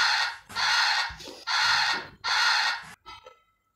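Three loud, harsh bird calls, each about half a second long, come in a steady rhythm, followed by a fainter, shorter call. The calls are given as a vulture's, though they sound like crow-like caws.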